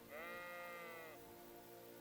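A single sustained sheep bleat rings out near and clear for about a second in the medieval role-playing game Kingdom Come: Deliverance II, then fades into quiet ambient background.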